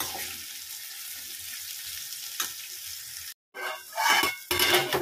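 Bitter gourd fries in a home kitchen pan with a steady low sizzle and occasional stirring scrapes, broken by a brief silence and then louder bursts of clattering and rushing sound near the end.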